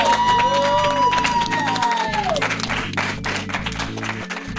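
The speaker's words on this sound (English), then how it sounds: "Give them a round of applause." At a film festival horror panel, an audience claps and cheers under loud music with a rhythmic beat and sliding tones, the crowd noise staying steady throughout.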